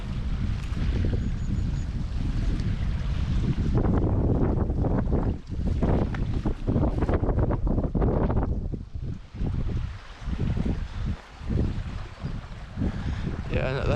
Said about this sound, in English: we're actually quite lucky that the wind's not gusting any stronger